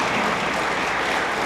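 Banquet audience at a Disabled American Veterans 100th anniversary banquet applauding Quilts of Valor recipients, a brief steady wash of many hands clapping in a large room.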